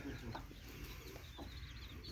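Desi chickens cluck on a village farm, a busy overlapping clucking at moderate distance that runs through the whole short moment over a steady outdoor background.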